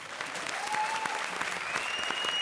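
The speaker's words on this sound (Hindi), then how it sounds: "जोरदार ताली बजा तो भाई" An audience at a comedy show claps steadily with dense, even applause, moderately loud and sustained throughout, with a faint tone under it and no clear speech.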